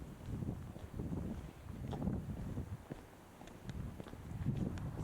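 Wind buffets a microphone in gusts during a walk through Allinge town on Bornholm, Denmark, a low rumbling roar that swells and fades, with faint steps and clicks beneath it.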